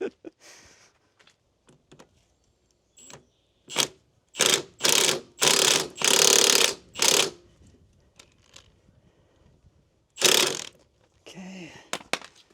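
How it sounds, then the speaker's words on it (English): Torque wrench ratcheting on bolts of a Vermeer S800TX mini skid steer, in several loud bursts of rapid clicks with quiet gaps between them, close by. "Now torque the other ones."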